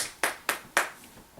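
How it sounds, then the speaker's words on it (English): A small group claps in three quick bursts of applause for a team, each sharp onset fading quickly, close and fairly quiet with no voices. "let's give a round of applause for the what's."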